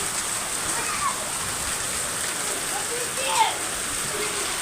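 Steady rain with small hailstones patters down with a constant wash, joined by a few brief splashes and faint bird-like chirps in the background.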